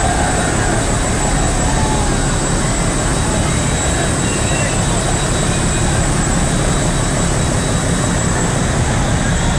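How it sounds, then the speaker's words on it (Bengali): Launch boats racing on a river during an Eid festival boat race, a constant loud broadband engine roar and rushing wind noise with no breaks, close and overwhelming. "আরো লঞ্চ আসতেছে পিছনে"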